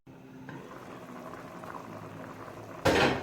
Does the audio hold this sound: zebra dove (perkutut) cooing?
no